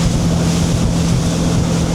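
A yacht motors through a light, choppy surface on Albemarle Sound. A steady, loud engine drone blends with continuous wind buffeting and water wash, with no voices.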